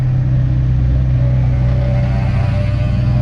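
The diesel engine of a 1997 Land Rover Defender 300 TDI with manual transmission rumbles loudly and steadily at close range, a deep, heavy idle that lifts slightly as it revs.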